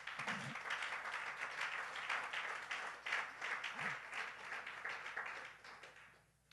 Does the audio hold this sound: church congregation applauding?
yes